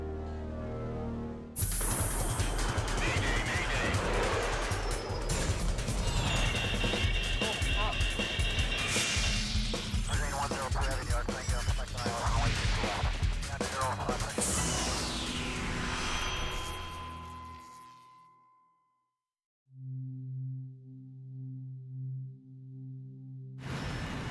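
A Kenya Airways airliner crashes in a dramatised reconstruction: a loud, dense roar of engine noise and impact chaos with shouting voices, cutting to near silence before a quieter cabin scene resumes.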